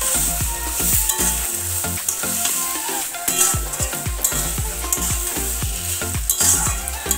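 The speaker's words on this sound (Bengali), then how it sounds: "এটাকে নাড়া দিয়ে" Taro leaf greens (kochu shak) stirred in a sizzling pan, with repeated scraping strokes of a spoon over a steady loud fry, no talking.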